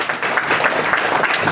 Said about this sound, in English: let's give a big round of applause to our fellows